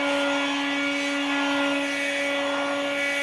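An air blower runs steadily while drying a screen printing frame, a constant loud whirring hum with a strong motor tone and broadband airy hiss, unbroken for the whole stretch with no talking.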